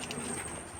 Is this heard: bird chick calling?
yes